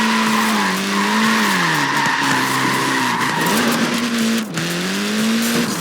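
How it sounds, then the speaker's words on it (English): A Mini's small tyres skid and squeal in Forza Horizon 4, a loud, sustained screech that wavers in pitch over a steady engine drone, with brief dips as the slide shifts. "Look at that, laying down some rubber there"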